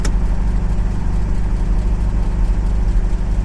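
Steady rumble of late-afternoon street traffic, with car engines droning and idling continuously nearby. It is a constant, fairly loud low-pitched wash, and no one talks.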